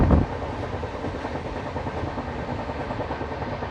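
The Patna Kota Express passenger train begins moving, opening with a brief loud thump and then settling into a steady rumbling roll with faint clickety-clack of the wagons, heard close and alone without talk.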